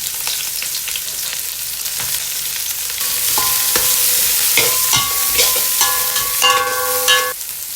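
Garlic, onion and leeks stir-frying in a hot pan, with a continuous bright sizzle and scraping stirs that grow louder partway through, plus a few short tonal clinks near the end.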